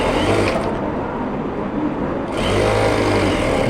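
A sewing machine runs a seam on a pair of trousers. It whirs loudly and close, stops for about two seconds, then starts up again.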